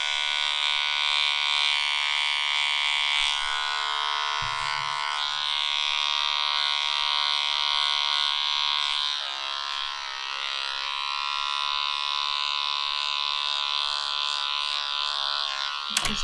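Electric clippers hum steadily and loudly close by, trimming a dog's fur during a hygiene trim, with a slight change in pitch partway through as the blades move through the coat.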